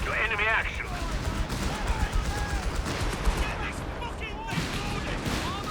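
Vickers machine gun fire in a Company of Heroes 3 1v1 match: rapid bursts and scattered gunshots crackle through the battle while a commentator talks over them.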